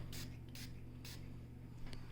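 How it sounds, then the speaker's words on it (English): Three sharp hissing bursts from a spray bottle onto fursuit fur in a quick rhythm, then a fainter fourth, close by over a low steady hum. "give it a good spray"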